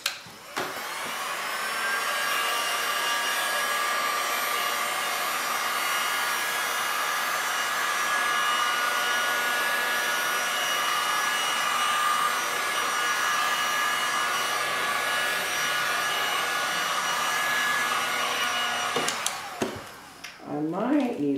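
A heat tool blows steadily and loudly over a resin art canvas, a continuous close whirring hiss that runs nearly the whole time before cutting off, followed by a few brief clatters.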